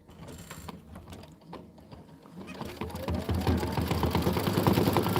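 Embroidery machine stitching out, a rapid mechanical whirring and ticking rhythm that grows louder and denser toward the end, heard close up.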